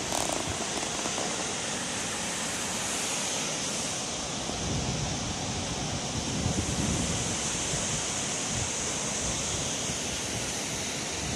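Shifen Waterfall in Taiwan, 40 metres wide with a 20-metre drop, gives a loud, steady, unbroken roar of falling water that fills the whole stretch without any talk.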